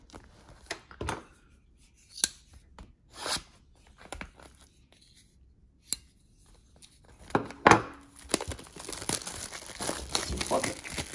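Packaging is torn and crinkled as a box of 1990 Score baseball cards and its wax packs are opened: sparse, close crackles and rips that grow denser and louder toward the end, with a person talking now and then.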